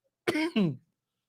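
Two quick, husky coughs in a row, close and fairly loud, followed by silence.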